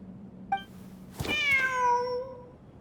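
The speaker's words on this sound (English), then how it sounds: "Wait, there it is! The cat!" Cat in a video game event giving a brief chirp followed by one long, clear drawn-out meow that fades, close and alone over a quiet hum.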